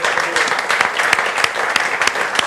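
A church congregation claps together during a Portuguese-language sermon, brisk overlapping hand claps close by and fairly loud, with some voices mixed in.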